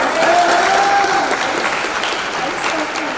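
A steady round of applause from a graduation ceremony audience, close and full, with a voice or two audible over the clapping.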